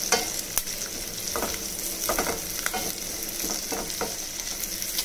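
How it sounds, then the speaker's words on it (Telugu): Onions sizzle steadily in a hot pan, with soft scraping stirs and occasional sharper clinks of a spoon against the metal, close and alone without any voices. "ఇవి మంచిగా ఫ్రై చేసుకోవాలి. ఆనియన్స్ మంచిగా ఫ్రై"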